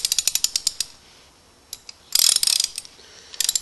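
Cheap 3/8 inch socket ratchet clicking in quick bursts of sharp pawl ticks, close and crisp, with short pauses between strokes.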